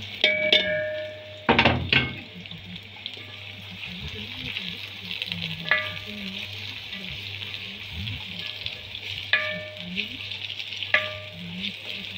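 Frying in oil for koshari, a continuous sizzle with a few sharp clinks of a utensil against the pan, and a voice talking briefly over it.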